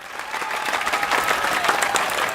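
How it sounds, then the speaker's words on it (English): Audience at a university student leadership awards evening applauding to welcome the Vice Chancellor, a steady, moderately loud patter of many hands clapping throughout. "please give a warm round of applause"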